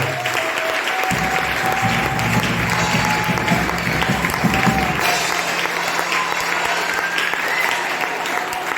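A church congregation applauds during a closing worship service, sustained loud clapping mixed with a low rumble of organ or keyboard and crowd voices, steady throughout.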